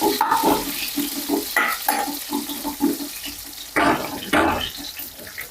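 Onions frying and being stirred in a pan, with a steady close sizzle and repeated scraping stirs; running water from a tap joins in briefly near the end.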